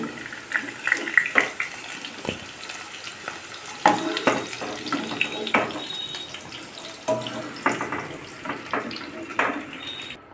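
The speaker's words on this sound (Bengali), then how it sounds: "আলু আর ডাটা ভাজা হয়েছে এখন নামিয়ে নেওয়া হচ্ছে" Potatoes and vegetable stems frying in oil in a wok give a steady, close sizzle. Irregular scraping and clinking from a spatula run over it as the pieces are lifted out.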